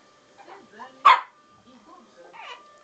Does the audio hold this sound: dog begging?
yes